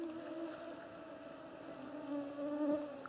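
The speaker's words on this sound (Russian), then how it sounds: "Посмотрите, как разбушевался гнус." A swarm of mosquitoes and gnats whines in a forest in the afternoon, a continuous layered buzz with several overlapping pitches that drift and swell slightly, heard alone at moderate distance.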